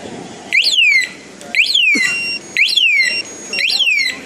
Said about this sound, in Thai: เดี๋ยวเวลาใครโดนรถเนี่ยมันก็จะมาร้องเตือนที่รีโมทด้วยนะครับ